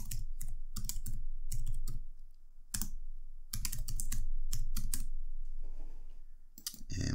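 Close, crisp clatter of fingers typing on a computer keyboard, quick clusters of key clicks in short bursts with brief pauses between words.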